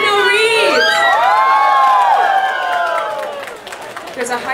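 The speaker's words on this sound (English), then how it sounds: "Oh, applause for Mr. Keanu Reeves!" A studio audience at a 2012 television talk-show taping cheers, whoops and shouts loudly for about four seconds, the high excited voices gradually fading.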